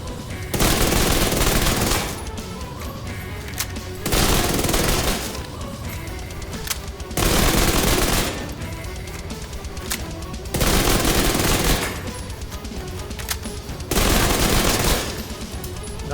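Dark Winter SMG in The Division 2 firing in sustained full-auto bursts, about five long loud volleys of roughly a second and a half each, separated by brief pauses with no speech.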